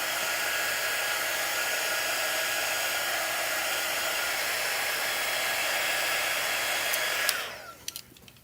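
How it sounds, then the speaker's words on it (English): A hair dryer blows steadily at close range with a loud, even whoosh and motor whine for most of the time, then switches off, leaving a few small clicks and handling sounds. "It's my hair dryer."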